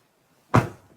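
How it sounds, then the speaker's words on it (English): A door crashing open, one sudden loud bang with a short rattling decay after near-silence, close and alone. "Crash! Went the door as he opened."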